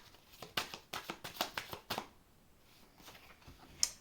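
Tarot cards riffled and shuffled by hand, a quick run of crisp flicking bursts, then quieter handling and a final sharp snap of a card.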